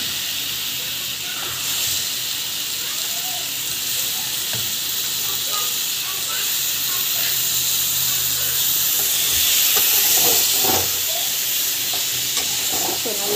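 Plantain sautéing in a hot pan gives a steady, loud sizzle and hiss throughout, with occasional scraping stir knocks from a utensil close by.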